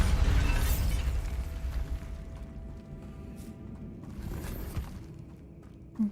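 A large Bombarda blasting spell explosion in the Hogwarts Legacy video game, a loud booming burst that rumbles and slowly decays for several seconds inside an abandoned cave area.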